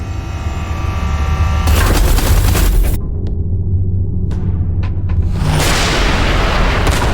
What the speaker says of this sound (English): Watch out! The artillery!